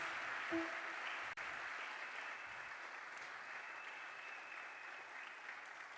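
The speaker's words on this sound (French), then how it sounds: "Est-ce qu'on peut encore applaudir, s'il vous plaît, pour son Excellence, Madame la Première ministre" Faint, distant applause from the audience at an award ceremony presided over by Félix Tshisekedi and First Lady Denise, a soft, even patter of clapping with a brief thump and a short tone early on.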